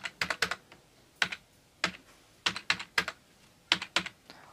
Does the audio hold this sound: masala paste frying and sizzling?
no